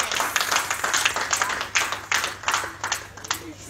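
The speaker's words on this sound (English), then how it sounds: "Please, Godsent family, please clap for yourself." An audience at a reunion summit and award event claps in a dense, rapid burst of many hands, loud and close, with a faint voice underneath.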